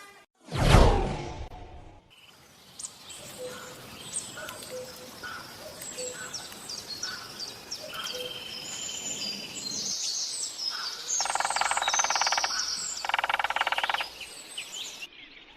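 Birds chirp and call through a forest ambience, with a brief whoosh at the start and bursts of high insect-like buzzing later on.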